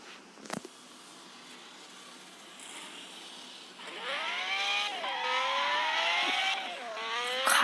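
In a car sounds game, a fast 6.0-litre V12 Pagani engine starts to rev after a quiet start, climbing and falling in pitch twice with a loud, rising roar.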